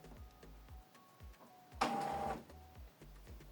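Canon Pixma G3590 inkjet printer powering on, with soft mechanical ticks and clicks, then a brief louder whirring motor burst lasting about half a second, followed by quieter clicking.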